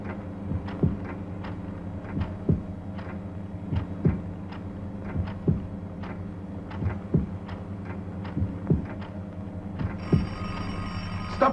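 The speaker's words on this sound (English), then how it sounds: "Stop that phone, Green." An old telephone rings in regular bursts, about ten evenly spaced rings over a low steady hum, fairly loud and alone, with a brighter tone joining near the end.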